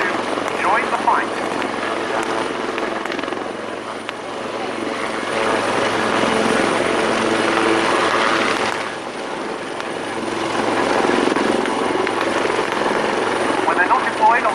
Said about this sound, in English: That's coming in on the right with the two Merlin Mark IIIs. And they're carrying assault Land Rovers with an underslung load coming in to join the fight.